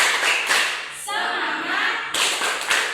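A class claps in the rhythmic 'tepuk semangat' ice-breaker, bursts of group clapping mixed with shouted chanting, fairly loud and close, with a short stretch of voices between the clapping passages.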